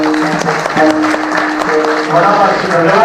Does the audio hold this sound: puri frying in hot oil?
no